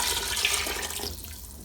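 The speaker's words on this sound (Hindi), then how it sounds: "मैंने पानी डाल दिया है क्योंकि मुझे ग्रेवी की भी ज़रूरत है" Water from a glass pours into chicken cooking in a pot for tikka gravy, a steady splashing, gurgling flow up close that thins out toward the end.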